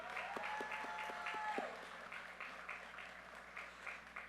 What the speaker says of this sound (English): please put your hands together and give a round of applause to your biggest fans